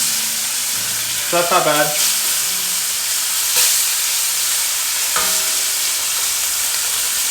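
Braised beef short ribs sear in a hot pan with a steady, close sizzle throughout, joined by a few brief clinks near the start and middle. A voice speaks briefly over the frying.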